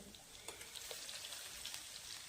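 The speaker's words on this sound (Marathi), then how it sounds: "आलं लसूण छान परतलं" Ginger-garlic paste sautés in hot oil with mustard seeds and cumin, a faint, even crackling sizzle with light pops, steady and unbroken.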